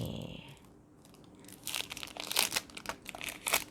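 Cardboard and plastic packaging of a Law of Attraction tarot card deck being torn open along its tear strip, close and fairly quiet, with a run of crinkling and ripping bursts after a short pause.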